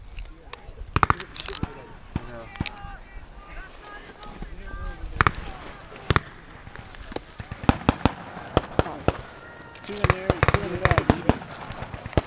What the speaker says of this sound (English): Probably gonna hear some blank fire.